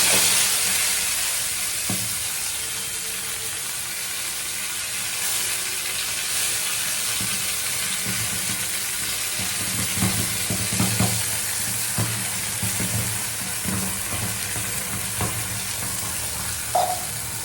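Food frying in hot oil in a pan, with a loud, steady hiss and sizzle that continues throughout, joined midway by stirring scrapes and bursts of crackling.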